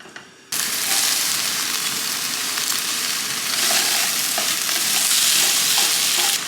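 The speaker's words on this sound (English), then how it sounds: "we're gonna fry it until it's nice and crispy before adding in our veg" Corn-flour-coated chicken frying in a pan, a loud dense sizzle that bursts in suddenly after a brief quiet start and continues steadily with light stirring scrapes.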